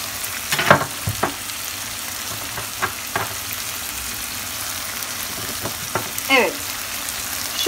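Bolognese sauce with bay leaf and black pepper bubbles in a frying pan with a steady soft sizzle, broken by several brief scraping and clinking strokes of a stirring utensil.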